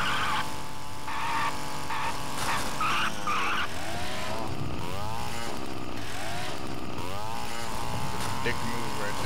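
Car in the Duke Nukem Forever video game, engine revving loudly as the tires skid and squeal repeatedly in sweeping slides, with the player talking over it at times.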